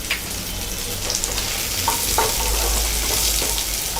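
Pepper and cumin sautéing in a pan for a prawn pepper fry, giving a steady close sizzle and crackle with a few stirring scrapes, no voices.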